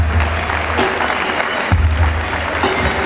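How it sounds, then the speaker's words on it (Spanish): An audience at a freestyle rap battle applauds in a steady, dense wash of clapping, with a low musical beat thumping underneath. "¡Aplauso, un aplauso!"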